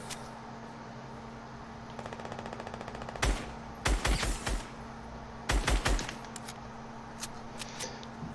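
Video game gunfire in a long-range elimination match: a rapid ticking run, then several loud, sharp automatic bursts in quick clusters, with quiet gaps and a steady background hum.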